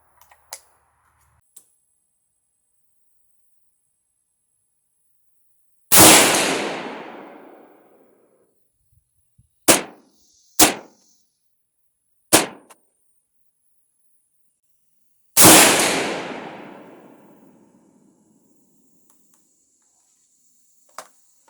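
Rifle shots fired at a 100-yard target, five sharp loud cracks with echoing decay, spaced irregularly several seconds apart across a quiet outdoor stretch, with faint clicks between them.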